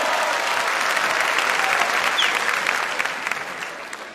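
Studio audience applauding to welcome a guest onto a Turkish comedy show stage, a dense steady clapping that holds loud throughout and tapers slightly at the end, with no talk over it.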